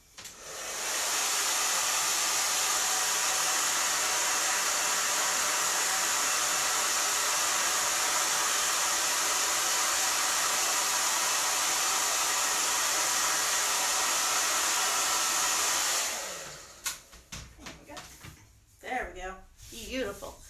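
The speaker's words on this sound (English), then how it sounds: "I'm going to hit it with a hairdryer." A hair dryer blows with a steady, loud broadband whoosh for about fifteen seconds, then cuts off, leaving brief handling noises and a few spoken words.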